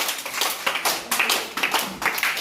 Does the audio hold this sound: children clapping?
yes